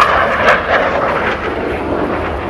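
A low-flying fixed-wing aircraft roars overhead in a loud, broad rushing drone, peaking briefly early on and then holding steady and close throughout, with no talking.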